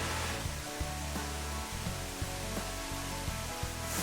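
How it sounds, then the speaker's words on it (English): Crabtree Falls, a waterfall about 60 feet tall on the Blue Ridge Parkway, pours in a continuous, even rushing roar heard from a moderate distance with no talk over it. "I like that sound because that's the sound of a lot of water."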